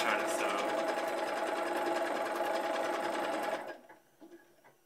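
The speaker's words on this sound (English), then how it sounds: "The moment that you see that your machine is not pushing your fabric through, stop sewing immediately." A sewing machine running steadily as fabric feeds through, a continuous whirring hum for several seconds that then stops, leaving only faint small clicks and handling noises.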